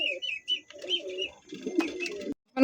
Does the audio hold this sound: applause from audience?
no